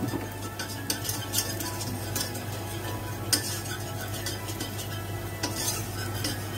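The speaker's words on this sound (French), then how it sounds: "Je laisse bien cuire la farine avec le beurre à feu doux." Flour and butter cook slowly over low heat for a cheese béchamel, with steady scraping stirs, faint clinks of the utensil against the pan and a soft background hum, no voices.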